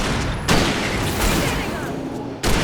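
Gunfire in Alan Wake Remastered on PS5: two sharp, loud shot bursts, one near the start and one near the end, over a constant rumbling in-game backdrop.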